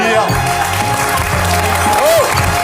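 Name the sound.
audience applause for Nicoletta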